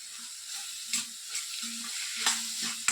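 A large tomato frying in a pan for bheja fry, with a soft steady sizzle and occasional stirring scrapes and taps, close and quiet throughout.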